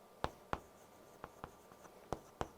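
Chalk tapping and scratching on a board during a classroom lecture, several sharp distinct strokes in an uneven rhythm, close and clear over a quiet room.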